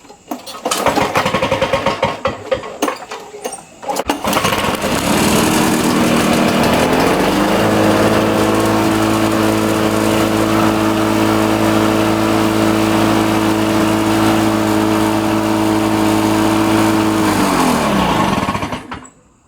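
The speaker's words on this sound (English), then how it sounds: "But the old mower is still working good." A Lawn-Boy DuraForce lawn mower engine is pulled into life after a few rough sputters, then settles into a loud, steady running drone close by for about twelve seconds before cutting off abruptly with its flywheel brake.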